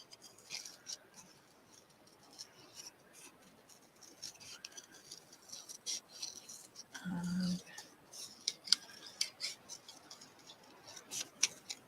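Scissors snip around a loose watercolour wildflower painting on paper, leaving a thick border: quiet, close, irregular crisp cuts and soft paper rustles scattered throughout, with a brief low thud partway through.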